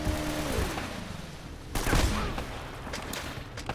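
Gunfire in the video game Uncharted: Drake's Fortune, a burst of several close, loud shots around the two-second mark, with scattered sharper cracks trailing after over a steady background of game music and ambience.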